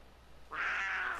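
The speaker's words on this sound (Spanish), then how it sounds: "no me dejes encerrado aquí con un puma salvaje" A puma in the video game Far Cry 5 lets out a single drawn-out, wavering feline yowl that starts abruptly and holds at moderate loudness, heard alone with no talking.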